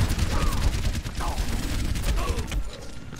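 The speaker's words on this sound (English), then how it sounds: "shoot at me while I'm not even shooting you" Crackling gunfire in an Overwatch deathmatch video game, a steady stream of overlapping shots and impacts at moderate loudness, with a faint voice underneath.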